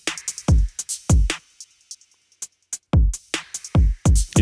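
A drum loop plays dry without Little Radiator distortion: a busy groove of deep kicks, snares and hats, then a brief sparse break before the full beat returns.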